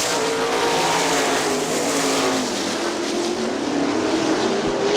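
Sprint cars race at Kokomo Speedway, their engines producing a loud, sustained roar from a pack of cars near the track. The pitch drifts slightly as the cars head into turn one.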